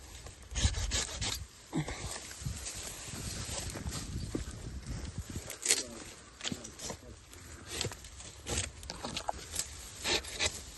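A hand saw cuts through olive tree branches during outdoor pruning, giving uneven rasping strokes in short rhythmic bursts with pauses between, fairly close and moderately loud.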